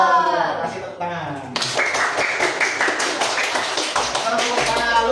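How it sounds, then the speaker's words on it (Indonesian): A classroom of students clapping hands together, crisp, rapid and close, building abruptly after a teacher's voice and continuing in a dense, fairly loud burst with some rhythmic unison. "Kasih tepuk tangan."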